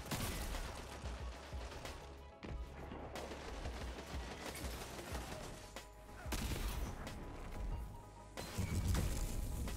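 Thorn hand cannon fire in Destiny 2 PvP, heard as bursts of sharp, heavy shots and impacts mixed with other game sounds, fairly faint and without speech.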